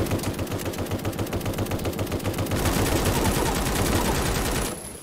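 Sustained rapid automatic gunfire from the video game AWOL, loud and dense with steady bursts throughout, ending abruptly near the close.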